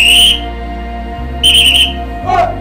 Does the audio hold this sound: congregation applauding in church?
no